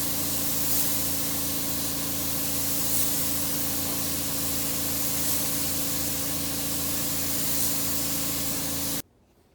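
Spray gun laying clear coat over red base-coated paint on a Massey Ferguson 1105 tractor, a steady, loud continuous hiss that runs unbroken for about nine seconds before cutting off abruptly.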